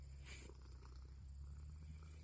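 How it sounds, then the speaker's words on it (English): A pet cat purrs close by during an outdoor nature walk, a soft, steady, rhythmic rumble that continues unbroken with no talking. "Yeah, I found my cat."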